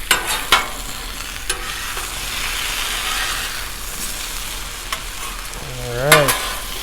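Potatoes and smoked sausage seasoned with garlic salt are stirred on a Blackstone griddle. A steady sizzle runs the whole way through, a few sharp metal spatula taps come early, and a scraping sweep of the spatula comes near the end.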